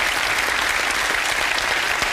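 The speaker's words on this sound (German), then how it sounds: "Kleinen Applaus für unseren Herrn der Zahlen hier." Studio audience of a German TV sports show applauding a guest, a dense, even burst of clapping that stays loud and steady for its whole short length with no talk over it.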